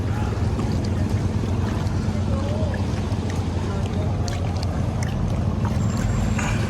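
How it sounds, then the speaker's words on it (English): Water bus crossing the Yangon River in Myanmar on a Sunday evening, with a steady low engine rumble and constant wash of flowing water and wind, continuous and fairly loud throughout. "Wonderful sounds of water flows."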